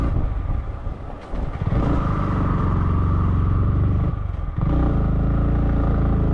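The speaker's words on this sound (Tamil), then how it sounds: "வண்டி ஏற மாட்டேதுங்க." A motorcycle engine labours loudly and steadily as it strains up a steep mountain road near Kodaikanal, holding a low droning note with a brief dip in the middle and no talking.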